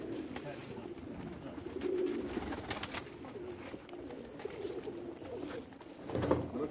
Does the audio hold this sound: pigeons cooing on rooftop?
yes